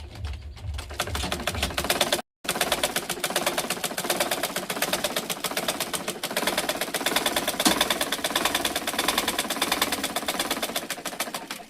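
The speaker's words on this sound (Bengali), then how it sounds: "তো আমি এখন একটা সেলাই করে দেখাই। তো আমি এই সাইডটা সেলাই করি" A sewing machine runs continuously, stitching a side seam after a thread-tangling fault was fixed. It gives a fast, even mechanical clatter up close, with one brief pause early on.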